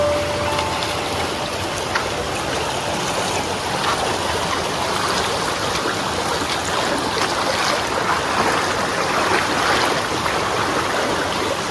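A river stream flows steadily near a temple, a loud, continuous rushing of water heard close by with no break.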